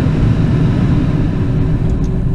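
The engine of a Ferrari 488 GTB heard from inside the cabin while driving gives a steady, deep low rumble with a smooth, even drone and no break, close and full in the car.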